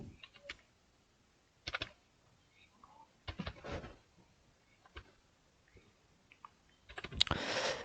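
Keystrokes on a computer keyboard while a national ID card number is entered into a form, coming in short irregular clusters of soft clicks with pauses between, close and fairly quiet, ending in a denser burst.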